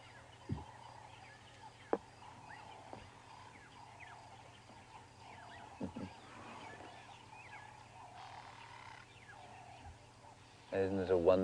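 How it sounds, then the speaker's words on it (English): A quiet dawn chorus in the African bush during a safari drive, with faint scattered birdsong and hornbill calls, ending in a louder burst of honking, trumpet-like calls. "And the hornbills too, like a little trumpet chorus."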